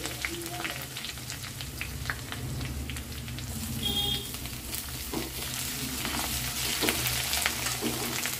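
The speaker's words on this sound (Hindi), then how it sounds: "अब इन सारी चीजों को अच्छे से भुनना है।" Cumin seeds with garlic paste and ginger paste frying in a pan give a steady, moderately loud sizzle with crackles and light scraping throughout, no talking.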